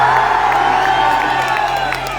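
A large crowd cheering and whooping at a political rally in Doda stadium, a loud, sustained roar of many voices close by, easing slightly toward the end.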